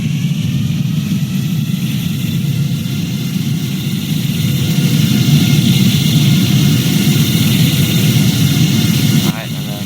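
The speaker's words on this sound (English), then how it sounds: "Show you guys the engine sounds." A loud, steady Boeing 787-9 jet engine roar in the Roblox game Project Flight, a deep rumbling drone holding for several seconds during the takeoff roll, swelling slightly midway before dropping off abruptly near the end.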